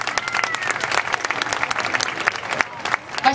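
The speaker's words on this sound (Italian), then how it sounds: "applauso." Applause from a studio audience at an Italian TV talent show, dense steady clapping throughout, fairly close and full, with a few brief dips in intensity.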